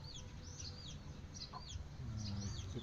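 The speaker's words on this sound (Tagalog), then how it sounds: "ang bantam na malaki-laki na konti yan yung isa maliit ang isa malaki-laki konti" Bantam chickens clucking close by, several soft chirpy calls in quick succession over a faint background hum.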